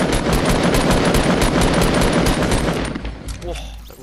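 Rapid automatic gunfire from the video game Fortnite rattles in a loud, continuous burst that thins out near the end, with game sounds mixed in.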